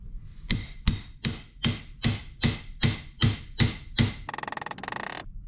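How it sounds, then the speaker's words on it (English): About nine evenly spaced metallic hammer taps drive a bolt into the front beam of a 1957 oval-window VW Beetle during restoration, close and sharp, followed by a brief rapid rattling buzz. "We've just got to keep tapping a little bit more. We might just put a socket on top."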